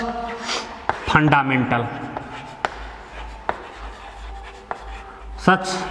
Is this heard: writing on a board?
yes